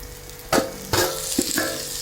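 Fried prawns are stirred into hot masala in a pan for prawn roast, giving a low sizzle broken by three or four scraping stirs of a spoon, close and moderately loud, with no voices.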